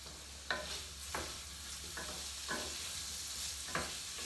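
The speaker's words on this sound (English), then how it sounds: "Taking my spoon here and stirring all this together." A spoon stirs pasta tossed with olive oil and vegetables in a hot pan, making regular scraping strokes about every half second over a soft background sizzle.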